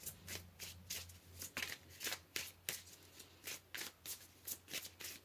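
Oracle cards shuffled by hand at close range, a quick series of about a dozen crisp riffling bursts in a fairly even rhythm, quiet and with no talking.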